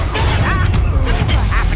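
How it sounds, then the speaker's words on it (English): Disarming spell cast in Hogwarts Legacy, a short burst of magical whooshing and crackling impacts layered over game combat noise and character voices, loud and busy throughout. "Expelliarmus!"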